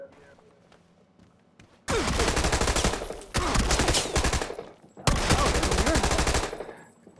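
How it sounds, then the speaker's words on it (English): Tommy gun fire in PUBG: three long bursts of rapid automatic shots, loud and close. The first runs about a second and a half, and the next two last roughly two seconds each, separated by brief gaps over faint ambient noise. "I got a Tommy gun"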